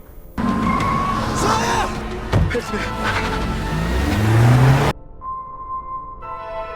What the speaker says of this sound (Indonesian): Akhirnya Jungwei berhasil masuk ke mobil dan langsung kembali menjemput putrinya